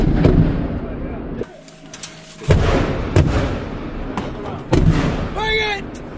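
Weapons fire during a joint US and South Korean army live-fire drill, with several loud sharp blasts spread through the clip between shouted commands and crowd noise.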